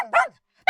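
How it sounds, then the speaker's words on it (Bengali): A hungry dog in an animated story gives a single short bark, quickly followed by the start of another. "শেষে তারা একটি ক্ষুধার্ত কুকুর দেখতে পেল।"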